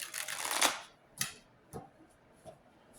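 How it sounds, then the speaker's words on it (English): Tarot cards being shuffled by hand: a quick riffling burst up close, then a few soft separate taps and clicks as the deck settles. "Let me shuffle."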